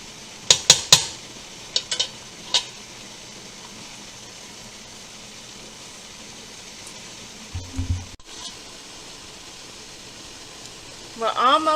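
Metal utensil scraping and clinking against a pot of pineapple mango habanero jam in a few quick bursts, then a quiet stretch before more stirring and scraping near the end.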